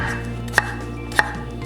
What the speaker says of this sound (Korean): 노란 파프리카도 한번 썰어 보도록 하겠습니다.